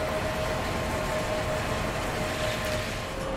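In Transport Fever 2, a long freight train with a 1044 double-header up front and a pusher locomotive at the rear winds slowly through, giving a steady, moderately quiet rolling rumble with a thin sustained tone.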